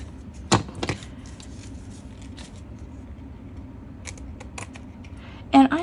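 Scissors cut matchbook paper for a handmade Christmas ornament, giving a few sharp snips spread across a quiet stretch, close and clear.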